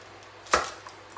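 One crisp chop of a large flat knife through carrots against a cutting board, close and distinct, followed by faint small taps.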